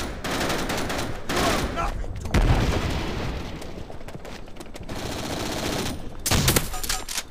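M1897 Trench Gun shotgun blasts boom in Call of Duty: World at War team deathmatch on Wii, loud repeated shots amid constant gunfire and explosions in a chaotic firefight, with no talk.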